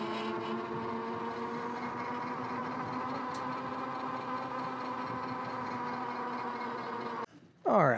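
Fat tire electric trike riding off-road under throttle, a steady humming drone with layered whine tones that holds level for several seconds before cutting off abruptly, followed by a brief rustle.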